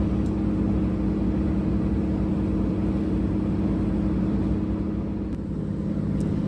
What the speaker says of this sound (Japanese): さすがのデクモも時々エンジン音がうなりますが、楽々と越えている印象があります。